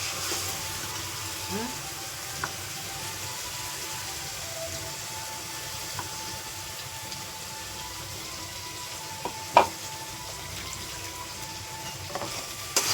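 Tomatoes sauté with fried onion in a pan for chole bhature, giving a steady, close frying sizzle throughout with a few soft utensil taps, as someone talks over the cooking.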